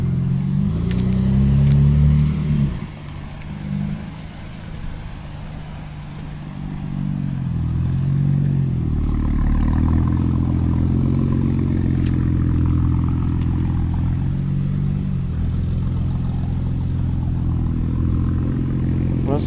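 A BMW G80 M3 pulls away and accelerates nearby, its engine rising and fading over about twenty seconds with a steady low rumble, and no talking heard.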